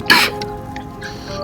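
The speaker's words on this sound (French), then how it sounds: "Je suis désolé pour la toux par contre." A single short cough bursts out near the start, then low room noise with faint background sounds follows.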